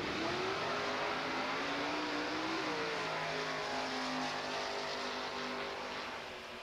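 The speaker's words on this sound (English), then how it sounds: "focus in on the cars ready to do their burnouts" DOT street tire drag race cars, including Chevrolet Camaros, rev loudly at the strip before burnouts, a dense continuous engine roar with rising and falling pitch sweeps, close and powerful throughout.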